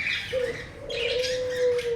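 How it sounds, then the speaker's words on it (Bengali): Soft, drawn-out cooing tone from young doves, nearby, with faint chirps above it. "এখানে আছে কিছু ঘুঘুর বাচ্চা"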